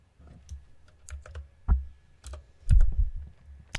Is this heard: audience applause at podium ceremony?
no